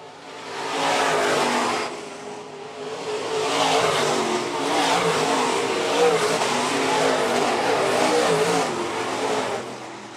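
Modified race cars charge out of the final corner at Phillips County Raceway, a loud roar of several engines rising and falling together with a brief dip near the start.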